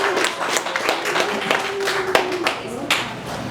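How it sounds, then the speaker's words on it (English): A small audience at a winery magic show claps briefly, sparse uneven hand claps close by with a voice and other noise underneath. "round of applause for me"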